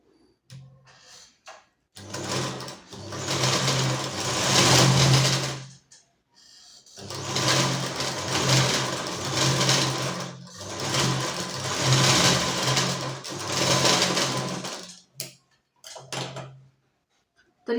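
A sewing machine stitches a belt blouse, humming in three long steady runs separated by short pauses, close and fairly loud, with a few brief clicks near the end.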